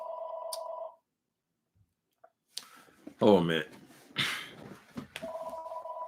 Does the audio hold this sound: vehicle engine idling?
no